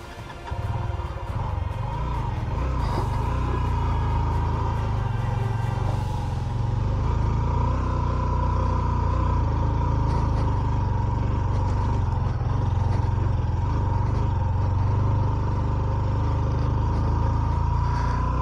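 A motorbike engine labours up a very steep mountain track toward Shipishun Meadows in Upper Chitral. It makes a loud, close, heavy low rumble with some clatter, holding steady strain for the whole stretch.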